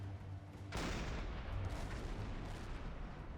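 In Silent Hunter 5, a submarine's deck gun fires on a ship with a sharp report that rolls into a long, rumbling decay over steady sea and engine noise.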